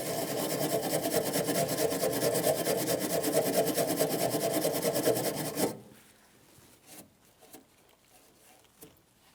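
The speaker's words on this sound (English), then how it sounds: "For this, I'm going to clean it down using a wire brush." Wire brush scrubbing a mounting port on a 2007-2014 GMC Sierra 2500 HD near the coolant reservoir, a loud, close, continuous raspy scraping for several seconds that stops abruptly, followed by faint scattered clicks.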